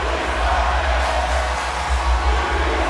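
Wrestling arena crowd chanting for Jon Moxley at Raw, a steady, dense roar with a rhythmic pulse that holds loud throughout with no talk over it.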